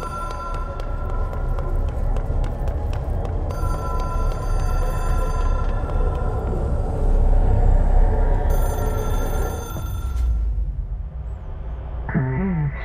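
Telephone ringing in the video game Control, a repeated electronic bell tone that sounds over a dense, steady game soundscape, then drops away near the end.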